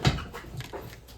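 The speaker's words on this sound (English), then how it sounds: "I have the dogs barking." Dogs bark in the background: one sharp bark up front, then a few fainter yips and whimpers within a second.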